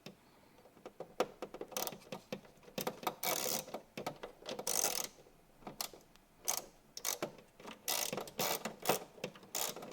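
A ratchet screwdriver backs screws out of a Supermicro 826 server chassis, making close, quiet bursts of rapid clicking that start and stop irregularly over ten seconds.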